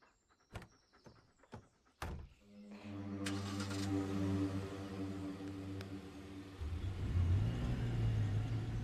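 A car in a video game starts after a few sharp knocks and door-like clunks, then revs up with a steady engine drone that shifts in pitch as it accelerates. Background game sounds come through faintly.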